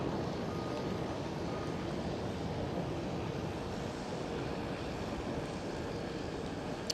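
A KLM Cityhopper Embraer E190 on the taxiway at Amsterdam Schiphol produces a steady, fairly distant engine rumble and hiss that stays constant throughout.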